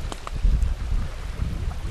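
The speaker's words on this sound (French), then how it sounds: "Aujourd'hui, on a un petit vent, une petite brise, très confortable et très appréciable." Light breeze buffeting the microphone along the Richelieu River shore near Henryville, a steady low rumble of wind with soft gusts and no other sounds.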